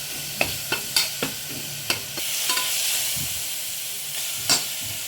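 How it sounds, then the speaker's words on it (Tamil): A spoon scrapes and taps in a pan over a soft sizzling hiss on low heat, with irregular clicks as ginger garlic paste is stirred for chicken kurma. "இஞ்சி பூண்டு பேஸ்ட் போட்டதுக்கப்புறம் நல்லா மிக்ஸ் பண்ணி விட்டுருங்க."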